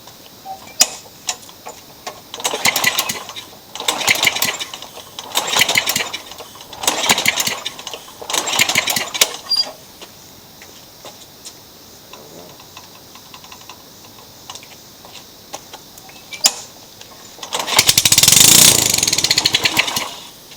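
A Craftsman curb mower engine fitted with a brand-new aftermarket carburetor and no muffler chugs and surges in uneven pulses, then settles to a lighter ticking idle before a loud burst near the end; a voice talks briefly.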